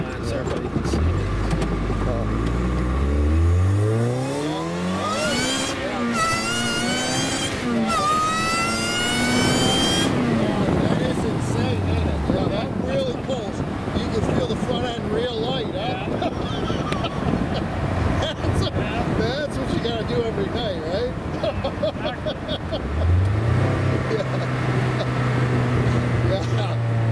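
An Ariel Atom sports car accelerates hard from a standstill to 110 mph, the engine note climbing through repeated rising gear sweeps with brief drops at shifts, loud and close, while people talk over it.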